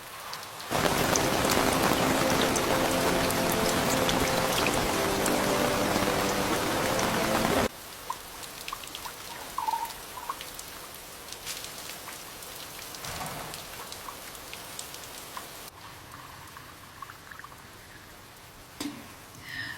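Rain pours steadily, heavy at first, then settling into a softer patter with scattered drips on surfaces.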